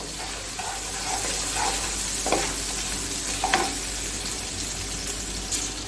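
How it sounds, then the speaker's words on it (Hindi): Chopped ginger, garlic and green chillies fry in hot oil with a steady close sizzle, broken by a few brief scraping clinks of a spoon stirring the pan. "अब इसमें मैं डालूंगी अदरक और लहसुन चॉप किया हुआ और इसको थोड़ा सा फ्राई करूंगी"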